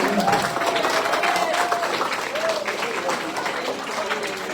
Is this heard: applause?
yes